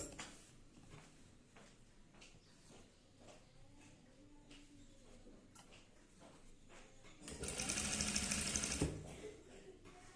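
A sewing machine stitching with yellow thread runs in one loud, fast whirring burst of about a second and a half, after quieter handling sounds and faint background noise.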